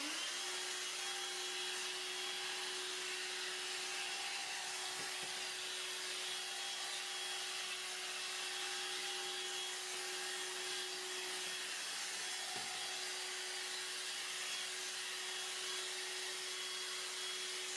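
A Hoover Air cordless 20V lithium-ion bagless hand vacuum runs with a steady, faint whine at a constant pitch, with no talking.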